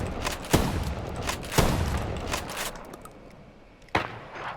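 Gunfire from a sniper rifle and an M4 in the OutlawZ zombie shooter video game: three sharp, loud shots spaced over a few seconds, each trailing into a rumbling decay over dense background game noise.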